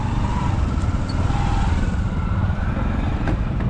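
Steady road traffic on a road in Sultanpur, a dense rumble of motorcycle and car engines passing close by, continuous and fairly loud with no clear gaps.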